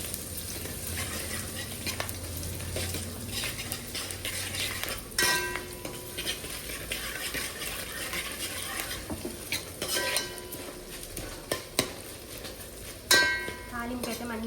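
Asafoetida and curry leaves sizzle in hot oil for a tempering while a spoon stirs and scrapes the pan, with intermittent metallic clinks over a steady frying hiss.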